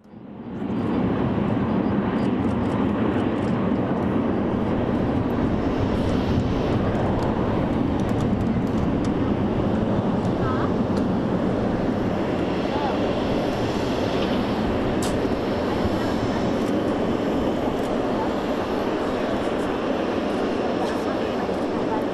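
Air Force One, a jet aircraft, roars continuously and loudly during takeoff, a broad rumbling wash of engine noise that holds steady throughout.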